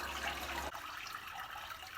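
Hot onion broth drains through a strainer into a large stainless steel bowl, a steady close hiss of trickling liquid with a brief heavier pour at the start, no talking.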